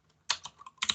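A username is typed on a computer keyboard as a brief flurry of a few quick, crisp keystrokes, heard close and alone.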